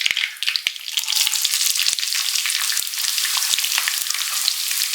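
Onions frying in hot oil with cumin and curry leaves for a spinach chicken curry, a loud steady sizzle with scattered crackles and pops close up, no talk.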